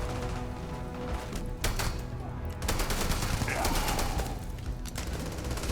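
Gunfire in the space game Starfield, a mix of single shots and rapid bursts crackling through a dense, busy combat soundscape, loud and continuous for several seconds.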